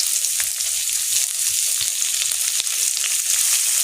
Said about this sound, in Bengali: দেখো বন্ধুরা, তেল গরম হয়ে গেছে, এবার আমি দিয়ে দেবো আদা আর রসুন বাটা। আর এবার দিয়ে দিচ্ছি পেঁয়াজগুলো।